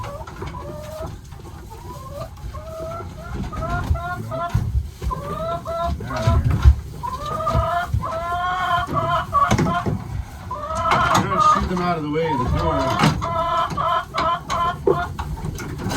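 Several chickens cluck and squawk nearby in a busy, uneven chorus, while a person speaks briefly over them.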